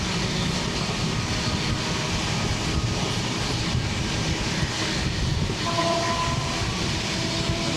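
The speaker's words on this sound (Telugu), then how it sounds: "మనం ట్రైన్లో చాలా ఎదురున్నాం, అందుకని అంత గట్టిగా సౌండ్ వస్తుంది," Train locomotive engine heard from the front coach of a long-distance express running from Nagercoil, Tamil Nadu: a loud, steady roar of engine and rolling wheels with rumbling low-end and rattling, continuous throughout with no talking.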